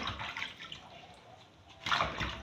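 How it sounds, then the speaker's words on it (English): Bitterleaf leaves being washed by hand in water, short wet splashes and drips, quiet and close, with a louder swish near the end. "Wash the leaf well."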